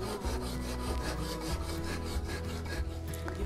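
A knife saws back and forth through a sponge cake base to split it into layers, making close, rhythmic rasping strokes repeated steadily, with no talk.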